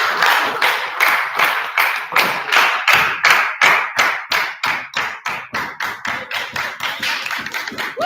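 At an ESN Lithuania event, an audience claps in unison with loud, evenly spaced beats, a steady rhythmic pulse of about three claps per second sustained through the whole stretch, with no talk over it.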